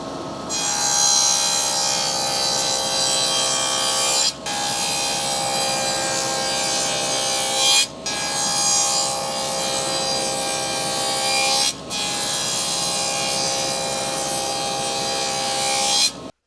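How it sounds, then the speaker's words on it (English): Dado blade cutting grooves in wood for magnets, a loud continuous whining saw cut in four long passes separated by brief drops. "I cut the grooves"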